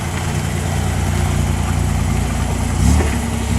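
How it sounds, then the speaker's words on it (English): An idling engine on a classic Lancia Astura at the 2010 Concorso Villa d'Este gives a steady, fairly loud mid-low rumble, then a brief surge near the end, with no voices. "Very elegant car. Lancia Astura."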